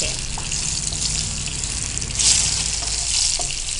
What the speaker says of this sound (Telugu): సో నూనె వేడెక్కిందా వేసేయండి. దీంట్లో మినప్పప్పు, జీలకర్ర, ఆవాలు, ఎండుమిర్చి.